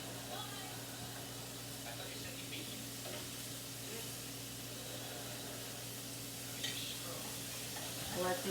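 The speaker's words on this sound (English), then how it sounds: "let the bacon start rendering in here" Bacon renders in a pan, giving a steady close crackling sizzle with a low background hum and a few brief clatters near the end.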